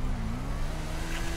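A motorcycle engine in GTA 5 revs up with a rising, steady whine that climbs in pitch over a brief moment, loud and close, with no talk over it.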